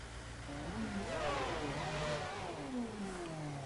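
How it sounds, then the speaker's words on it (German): Formula 1 car engine in the F1 2010 racing video game, a faint, rising and falling revving whine that climbs in pitch and holds steady at moderate level. "Starte den Motor und dann raus mit dem Auto."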